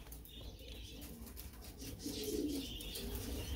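Pigeons coo softly nearby in a low, throaty murmur under a faint ambient background, growing a little fuller toward the end.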